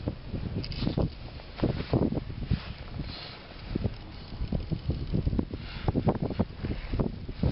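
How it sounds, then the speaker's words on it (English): Gusty wind buffets the microphone beside a lake while fishing, a faint rumbling rush that rises and falls in uneven bursts, with no talk. "A little bit windy today."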